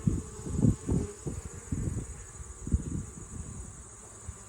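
Bees buzz from an open hive during an inspection, a steady soft drone with low rumbling gusts of breath or wind blown across the frames, no voices.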